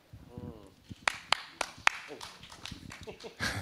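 A few scattered hand claps from a small audience at a gathering with a Kogi elder, several sharp separate claps heard under ongoing talk.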